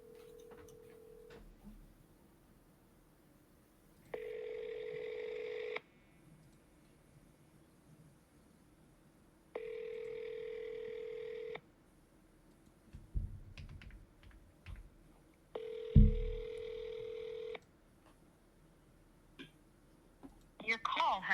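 Phone call placed through a handset, with repeated ringback tones in evenly spaced bursts of about two seconds, separated by pauses and faint room noise.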